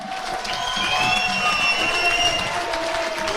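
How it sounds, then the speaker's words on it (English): Crowd at a boxing event in Leicester applauding both fighters in the ring after eight rounds: dense, steady roar of clapping and cheering with whistles on top, loud and sustained throughout. "let's have a round of applause for both these men inside the ring."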